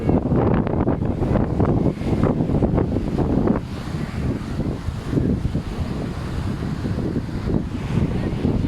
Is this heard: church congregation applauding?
no